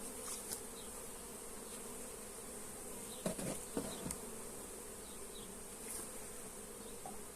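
A dense, steady buzz of many honeybees humming close by around a hive, continuous and fairly quiet, with a few faint clicks partway through.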